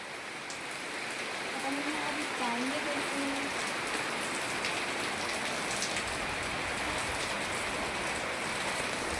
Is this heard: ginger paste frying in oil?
no